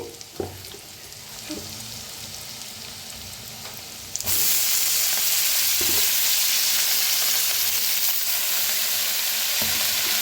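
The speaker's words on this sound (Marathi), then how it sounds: "आता छान याला भाजून घेऊया छान भाजलेलं आहे आता ह्याच्यात टाकूया मेथी" Fenugreek leaves dropped into a hot pan of roasted seasoning burst into a loud, steady sizzle after a few quieter seconds of light frying and stirring, with occasional scraping strokes and no talk.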